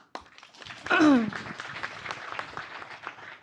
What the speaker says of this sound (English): Please give applause to them